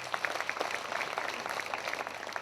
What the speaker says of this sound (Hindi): जोरदार ताली परमेश्वर के लिए